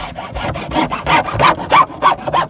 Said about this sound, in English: using a good, strong, sharp hacksaw. We're just going to cut this nipple off.